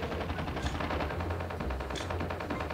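AK-117 rifle firing in Call of Duty Mobile Battle Royale on the Alcatraz map, a rapid, evenly spaced automatic burst sustained loud and close for the whole stretch.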